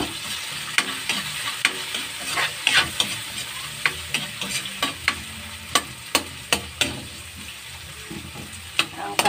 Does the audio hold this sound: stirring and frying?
yes